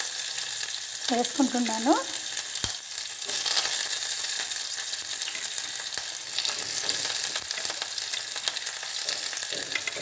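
Onions and dried red chillies fry in oil with a constant close sizzle. A short spoken phrase sits early over it, and a few sharp clicks of stirring land here and there across the run.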